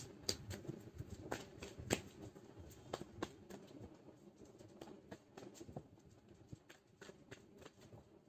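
Tarot cards being shuffled by hand, with a run of soft, papery riffles and taps close up that recur irregularly through the whole stretch and stay fairly quiet. No one speaks.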